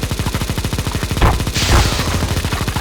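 Rapid automatic gunfire from the video game CS:GO Zombie Escape, a loud, dense stream of evenly spaced shots with a brief burst of noisier blasts partway through.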